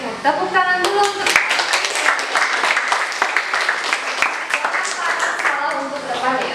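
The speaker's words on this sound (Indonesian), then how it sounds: "tepuk tangan dulu untuk" A classroom audience of students claps hands in a dense burst of applause lasting several seconds, with voices briefly audible at the start and end.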